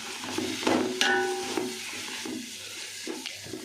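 Mint and coriander stirred in a hot pan while cooking chicken biryani, with soft sizzling, a few clanks of the spoon against the pan and light scraping, fairly close and quiet.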